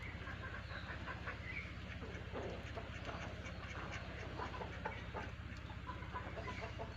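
Pet ducks quack softly and repeatedly at a distance beneath a steady low hum, the calls faint and scattered throughout.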